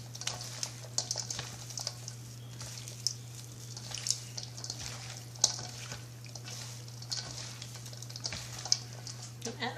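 Lao chicken feet salad being tossed by hand, giving a steady run of soft wet clicks and squelches close up, with a low electrical hum underneath and no talking.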